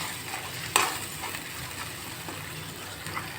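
Spice paste with salt, red chilli powder and turmeric fries and is stirred in a pan, a soft continuous sizzle with one sharp clack of a spoon early on and faint scraping, no talk.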